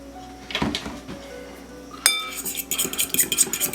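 Ground meat mixed with salt, pepper, Worcestershire sauce and mustard in a bowl, heard as close clinks and knocks of a utensil against the dish, then a louder burst of wet, irregular stirring and scraping.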